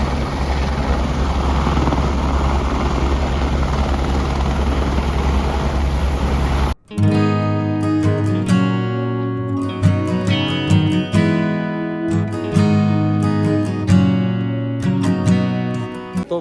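A helicopter at the Ghangaria helipad in Uttarakhand gives a loud, steady rotor and engine roar for about seven seconds, then cuts off abruptly as music takes over.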